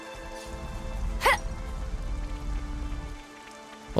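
Steady rain falling in the video game Xenoblade Chronicles 3, a soft continuous patter that thins out near the end, with a brief character vocal sound over it.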